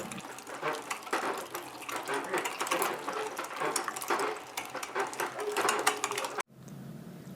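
An old antique hand-cranked meat grinder works through pork with a steady, busy grinding and churning clatter up close, stopping abruptly near the end and leaving quiet room tone.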